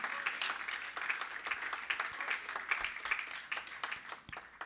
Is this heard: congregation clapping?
yes